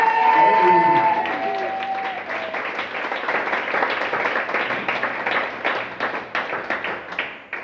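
A church congregation bursts into sustained applause at a French-language worship service, loud and dense, with clapping steady throughout and a voice at the start.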